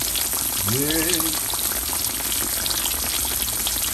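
A large basa fish fillet fries in a pan with a dense, steady sizzle close up, while a short gliding voice-like whine rises briefly over the crackle.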